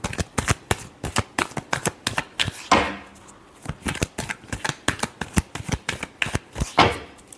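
Tarot cards being shuffled, a fast run of crisp riffling clicks and flutters with two longer whooshing bridge-like sweeps, close and alone without talk.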